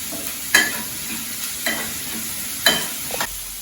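Onions sautéing in a pan for potato masala give a steady sizzle, with a few spoon stirs and scrapes at irregular intervals; no one is talking.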